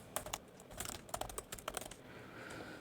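Keys clatter on a computer keyboard in quick irregular bursts of close, crisp clicks, then a soft steady tone takes over near the end.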